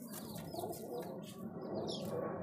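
Madrasi pigeons in a loft coo softly over a steady background hum, with faint chirps and a brief flutter of wings, close by, with no one speaking.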